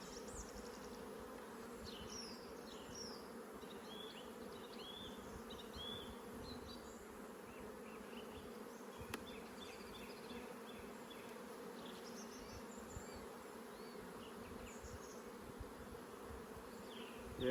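Honey bees hum in a dense, steady drone as they are transferred from a nuc box into a hive, a continuous close swarm buzz at low level with a few faint clicks and no talk.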